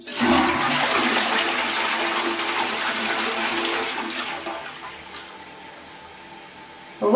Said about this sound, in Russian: Я делаю смыв, чтобы вы понимали,